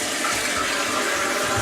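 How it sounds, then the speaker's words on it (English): A Vortens 3485 replacement toilet tank fills with water for the first time, giving a steady, loud rushing hiss that runs continuously and close by, with no talk over it. "It'll fill up for hopefully the first time and flush and not leak."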